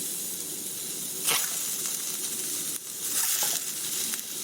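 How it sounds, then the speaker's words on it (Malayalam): Sardines laid into a hot pan hiss and sizzle loudly and steadily throughout, with brief surges in intensity and no talking. "ഇനി നമുക്ക് ഈ മത്തി ഇതിലിതുപോലെ വെച്ച് കൊടുക്കാം"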